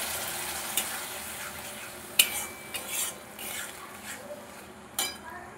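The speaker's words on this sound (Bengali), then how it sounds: "দিয়ে মশলাটা খুব ভালোভাবে কষাবো।" A spice paste of coriander powder with a splash of water is stirred in a pan, giving a low simmering fry under a few sharp scrapes and clinks of a metal spoon.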